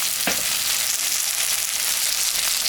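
Potatoes and eggplant fry in a pan with a loud, dense, unbroken sizzle heard up close, with no voices.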